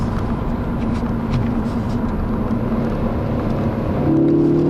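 A 2013 Ford Focus ST engine pulls in second gear from inside the cabin, a steady mid-level drone with road noise, rising slightly toward the end.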